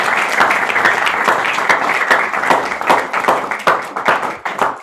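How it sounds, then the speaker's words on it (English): Applause from a festival audience at a Sri Rama Navami celebration, a loud, dense crowd clapping steadily for several seconds, with some sharper individual claps standing out. "Let's do another round of applause."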